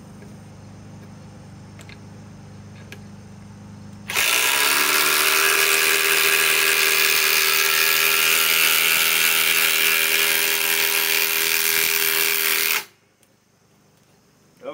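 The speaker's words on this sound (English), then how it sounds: "This is their top of the line impact driver with an 8 amp 21700 cell." A Hercules brushless impact driver with an 8 amp 21700 battery drives a 6 inch lag screw, a loud steady hammering whir that starts abruptly, runs about nine seconds without pause, then cuts off to quiet room noise.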